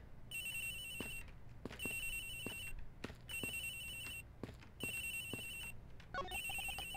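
A cell phone ringtone in the Ace Attorney Investigations video game repeats in regular bursts of a bright electronic tone over steady background music, with no talking.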